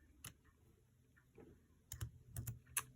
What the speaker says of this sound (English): And we're going to type in a squared